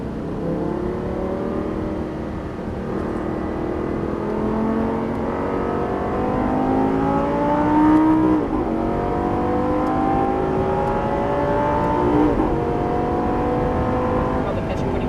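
A Lamborghini Gallardo Superleggera LP570-4 drives hard on a race track, its engine note sweeping up through the gears in a steady, loud in-car drone, with gear-change dips around the middle and voices talking over it.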